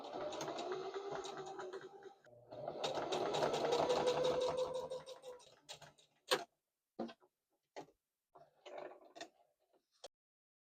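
A sewing machine runs a straight stitch in white thread for about five seconds with a steady mechanical whir, followed by several sharp clicks and taps of the machine mechanism. No one speaks.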